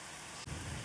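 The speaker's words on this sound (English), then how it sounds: "Oh, it's still raining." Steady rain falling in Farming Simulator 25 on an Iowa farm, a continuous hiss of drops on surfaces with a slight swell partway through, with no one speaking.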